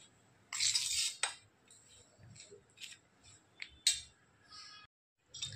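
A spoon stirring panjiri prasad with makhana and edible gum in a metal pan makes intermittent clinks and scrapes, with sharp knocks scattered among quieter gritty stirring and a brief pause near the end.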